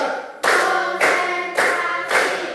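A standing group claps in unison during a counting ice-breaker in a teacher-training session, four loud, crisp collective claps landing at even intervals about half a second apart, close and clear with no talk.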